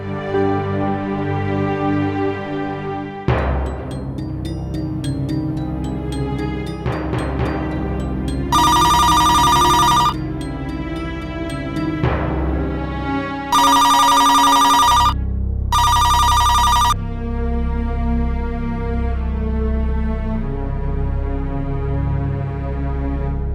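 A telephone rings in a haveli in a Hindi TV drama, sounding in three loud bursts over a sustained dramatic music score.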